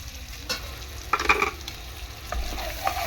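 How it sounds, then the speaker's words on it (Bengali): Chili and salt being stirred into fish curry frying with small fish and green tomato, a spoon scraping through the sizzling oil in a few scattered strokes, close and fairly quiet, with no talking. "দিয়ে একটু নাড়াচাড়া করে নেবো এরকমভাবে।"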